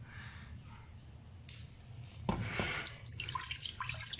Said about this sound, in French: on verse 200 ml d'eau dans le faitout.